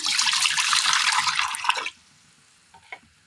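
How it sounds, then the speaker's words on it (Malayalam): Water poured into a cheenachatti, a Kerala iron wok, on the stove: a close, loud splashing pour of about two seconds, then it stops and a few faint drips follow. "അടുപ്പത്ത് ചീനച്ചട്ടിയിൽ ഒരല്പം വെള്ളം ഒഴിച്ചു കൊടുക്കാം."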